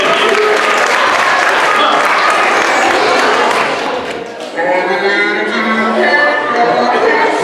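Loud, sustained audience applause fills the room, briefly dipping before swelling again as a crowd keeps clapping.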